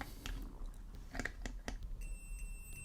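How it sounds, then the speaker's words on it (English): A faint, thin electronic multimeter continuity beep sounds for about a second over low background hum, with a few soft clicks and taps. "So this should beep if there's continuity."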